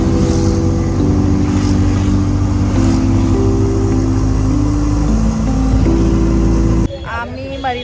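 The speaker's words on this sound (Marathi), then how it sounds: "आम्ही आता रिक्षामधून चाललो आहे. शेअर रिक्षा आहे." A shared auto rickshaw carries passengers in Chennai, its small engine droning and revving loudly with shifting pitch for several seconds before cutting to a person speaking.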